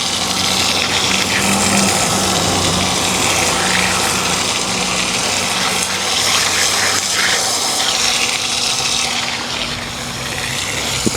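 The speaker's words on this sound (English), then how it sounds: "They got this little thing right here. You could wash your feet off." A beach foot-wash shower runs, a loud, steady gush of water close by that continues without a break throughout.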